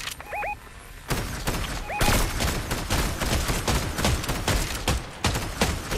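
Video game gunfire aimed at a tree, dense rapid bursts of automatic shots firing close and loud in near-continuous volleys with brief gaps, a couple of faint electronic chirps early on, no talk.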